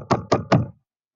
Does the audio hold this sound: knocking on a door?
yes